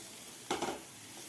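A spatula gives one quick stir through sautéed onions and green chillies in a pan, a brief scrape with a soft sizzle, close and isolated against quiet.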